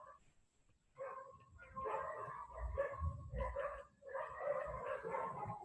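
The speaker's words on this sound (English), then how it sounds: "That's why they are barking so much." Several dogs bark in irregular bursts, some near and some farther off, with occasional yips and whimpers over a quiet background.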